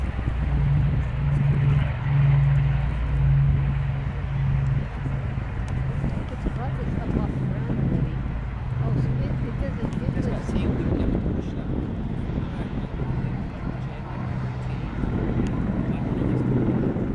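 Deep, steady four-engine propeller drone of an Avro Lancaster bomber taking off at an air show roars continuously, loud and close, with a low rumbling throb running throughout and no voices.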